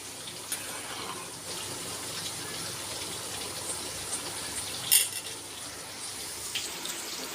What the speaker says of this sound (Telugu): మిరియాల రసం అయితే మరుగుతుందండి